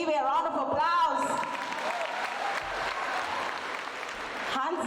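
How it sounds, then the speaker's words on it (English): After a performance at a girls' tertiary event, the audience claps in a fairly close, even patter that starts over lingering music and voices, then fades toward the end. "May we give a round of applause."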